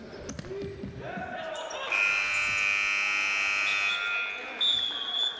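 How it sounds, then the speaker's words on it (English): Half-time buzzer at a futsal match in the FA National Futsal Series, a loud sustained electronic tone lasting about two seconds after court noise and squeaks, followed by a shorter second blast. "Buzzer goes then for half-time"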